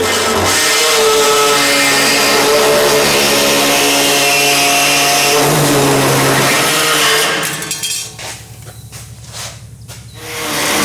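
A power drill bores a pilot hole through a replacement steel floor pan during a car restoration. It gives a loud, steady, continuous whine for about seven seconds, then breaks into a few short, quieter bursts.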